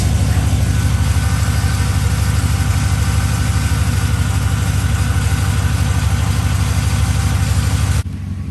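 A car engine runs at idle just after an oil change, a loud, steady low rumble holding evenly for about eight seconds before dropping off sharply near the end, with no talk.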